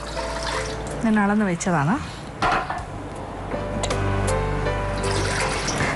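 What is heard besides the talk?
pouring water into a hot cooking pot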